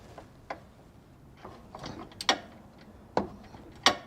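A nut splitter tool works on a stubborn nut during a limited-slip differential install on a 240SX, giving sparse, sharp metallic ratcheting clicks and cranks spaced irregularly between quieter pauses.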